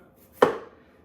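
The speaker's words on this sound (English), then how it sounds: "Now I'm going to chop half of a pepper as well." A single sharp chop of a knife through a pepper on a cutting board, close and crisp, with a quick decay into a quiet room.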